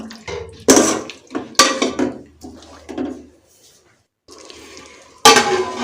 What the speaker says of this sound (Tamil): இப்போ இது எல்லாத்தையுமே ஈவனாக மிக்ஸ் பண்ணி விட்டுக்கலாம்